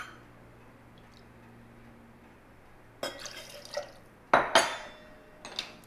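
Grapefruit juice poured into a glass for a tequila Paloma cocktail, following a quiet lull: a short splashing pour with drips and a couple of glassy clinks near the end.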